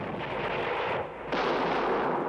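Cannon fire in the siege of Jhansi: a dense, sustained rumble of artillery blasts and crackling gunfire, loud and continuous with a brief dip before resuming, with no talking.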